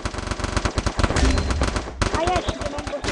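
Rapid automatic gunfire in the Free Fire battle-royale game, dense bursts of loud repeated shots filling the whole moment with barely a pause, layered with game effects.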